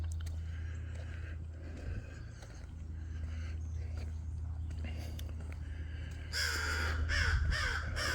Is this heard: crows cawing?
yes